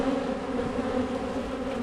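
A dense, steady hum of honeybees swarming close around an open hive during a ranch inspection, a continuous drone that holds unbroken and fairly loud for the whole stretch with no voices.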